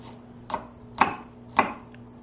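Three sharp, evenly spaced knife chops through strong onions on a cutting board, close and crisp, with quiet pauses between strikes and no talking.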